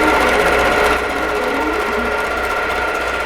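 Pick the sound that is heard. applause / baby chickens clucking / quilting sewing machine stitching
quilting sewing machine stitching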